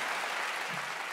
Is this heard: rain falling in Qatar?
no